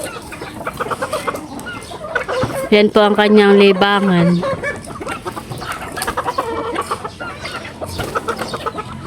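Pet chickens cluck and a rooster calls in a backyard flock, mixed with someone speaking Filipino over and between the bird sounds.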